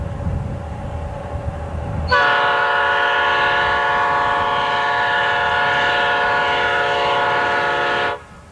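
A Norfolk Southern freight train on Saluda Grade, between Spartanburg and Asheville, sounds a loud, sustained multi-chime horn for about six seconds over the rumble of the passing train, close by.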